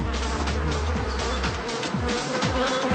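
A dense swarm of bees drones steadily around large hanging honeycomb hives about three feet across, the buzzing loud and continuous with overlapping wingbeat hum and no pauses.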